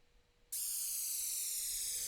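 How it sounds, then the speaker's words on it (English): A burst of bright white noise cuts in abruptly after a short quiet moment and holds steady and loud, a hissing synth downlifter sweep with a slight downward tilt. "I've got a downlifter as well, which just sounds like this. It's just white noise."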